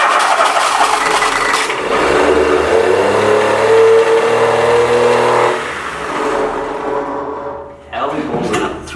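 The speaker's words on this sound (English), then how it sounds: "We've got the engine started." A trawler's generator engine cranks and fires, revving up loudly to a steady roar, then dips and surges again, close by, with faint voices underneath.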